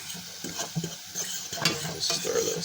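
Pumpkin spiced fried rice with Korean red chili flakes and black pepper is stirred in a hot pan, giving a low sizzle with repeated spatula scrapes and light metallic clinks, close up and without voices.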